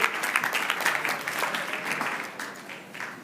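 Crowd applause for demonstrating companies at a tech event, a dense steady patter of many hands clapping that gradually thins and fades over a few seconds.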